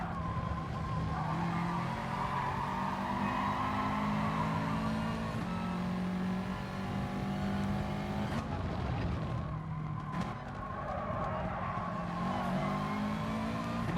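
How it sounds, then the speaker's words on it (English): A Ferrari race car in GT Sport laps a track, its engine droning steadily with shifting pitch and brief tyre squeal over about fourteen seconds, close and continuous. "God, that Ferrari is so quick around this track."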